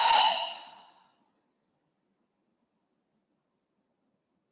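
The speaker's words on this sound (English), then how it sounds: "And exhale everything out." A single deep exhale during yoga breathing, a soft breathy sigh lasting about a second, close and fairly clear, then silence.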